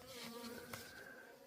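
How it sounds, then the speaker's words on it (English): Bees buzz close around a hiker on the Appalachian Trail, a steady, faint insect drone that hovers near the listener without pause. "You've got bees all over me again."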